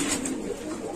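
A Lahori pigeon at a fancy pigeon farm coos in a soft, low, continuous murmur, close by and alone.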